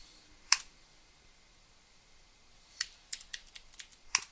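Keys clicking on a computer keyboard, one sharp isolated tap followed after a pause by a quick run of several keystrokes, close and clear in a quiet room.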